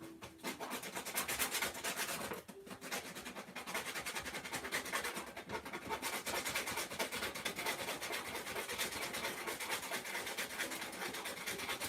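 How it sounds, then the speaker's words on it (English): Hand sanding of a workpiece during a hobby build: a steady, close, continuous abrasive rubbing that keeps an even scratchy texture throughout, with no talking. "Alright, let's get this sanded."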